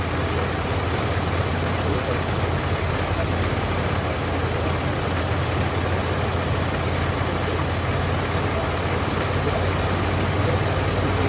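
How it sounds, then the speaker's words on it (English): A vehicle engine with a poorly running carburetor idles steadily up close, a constant low rumble with a dense mechanical drone, and no clear rise or fall in pitch. "I do hear the engine going up and down, idling higher and lower."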